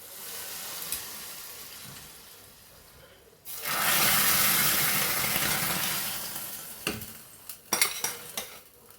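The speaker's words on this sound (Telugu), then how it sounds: "ఆ తాలింపుని ఇంకా దీంట్లో వేద్దామండి." Hot tempering poured into chana masala curry, starting with quiet clinks of utensils, then a sudden loud burst of sizzling that slowly fades, followed by sharp clatters of a spoon against the pot.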